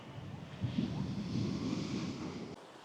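Surf at Bias Tugel beach in Bali, a steady broad wash of ocean waves with some wind noise, continuous and moderately loud for most of the clip before cutting off abruptly near the end.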